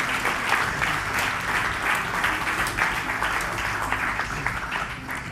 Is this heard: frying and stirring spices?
no